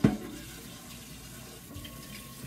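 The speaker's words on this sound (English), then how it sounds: "I'm going to use a small roaster, and I just got to wash it out a bit." Tap water runs steadily into a sink while a small roaster pan is washed out, a low continuous rush with a brief splash at the start.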